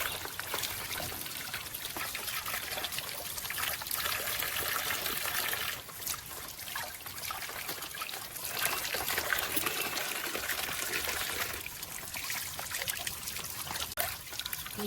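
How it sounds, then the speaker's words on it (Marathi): Water trickles and splashes steadily as wild mushrooms are rinsed, with soft handling sounds and brief pauses, no talking. "तर मी ही अळमी धुवून घेते ही अशी स्वच्छ वरी अशी धुवून घेऊ"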